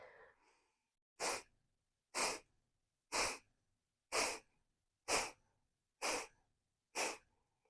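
Kapalabhati breath of fire in yoga: seven sharp, forceful nasal exhalations spaced about a second apart, close and clear, with quiet pauses between them.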